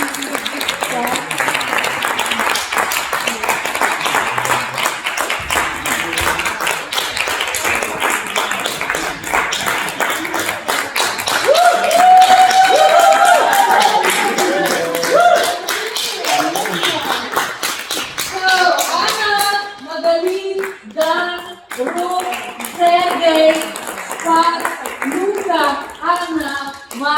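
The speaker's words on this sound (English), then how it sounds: "Let's give them a really big clap." An audience claps for a theatre team at a festival finale, sustained broadband clapping for most of the stretch, then thinning as a voice begins speaking over the last scattered claps.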